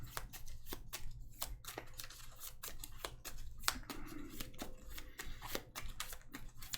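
Marvel Champions playing cards being shuffled by hand, a rapid run of crisp riffling snaps and clicks repeating steadily over a low background hum, close and fairly quiet.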